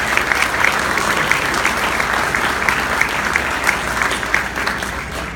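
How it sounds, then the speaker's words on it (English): Audience applause for a clubhouse design committee, a full round of steady clapping from a sizable crowd, even and sustained with individual claps standing out, with no speech over it. "Please give them a large round of applause."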